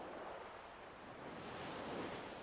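Sea waves wash steadily onto the shore in a continuous soft roar of surf that swells slightly louder toward the end, with no voices.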